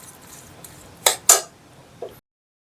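A utensil scrapes and clinks against a pan while grated coconut and melting jaggery are stirred into a sweet filling. There are three or four sharp metallic knocks over quiet background, then silence, with no talking.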